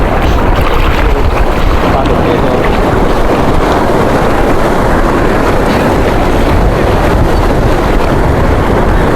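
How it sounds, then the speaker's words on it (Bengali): Sea waves at Inani Beach, Cox's Bazar, give a loud, unbroken roar that is heavily mixed with wind buffeting the microphone for the whole stretch. "সাগরের গর্জন শুনতে পাচ্ছেন আপনারা"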